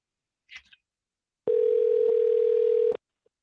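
Internet phone call placing, a short burst of faint noise followed by a single steady electronic tone lasting about a second and a half, clean and prominent, then abrupt silence.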